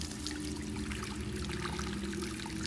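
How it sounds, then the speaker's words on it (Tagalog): Water is scooped and poured into buckets, a steady trickling and splashing stream with a low hum underneath, continuous and fairly close. "ang pagsalok at paglalagay ng tubig sa mga timba"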